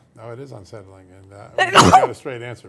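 A single abrupt, noisy sneeze bursts out loud in the middle of a studio talk show, with a man's speech before and after it.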